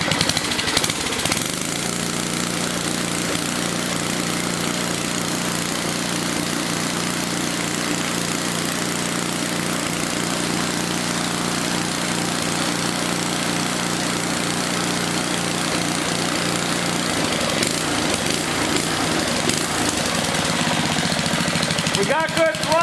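A rebuilt Tecumseh small engine runs continuously and loudly close up, a rough steady drone throughout with slight rises in throttle toward the end.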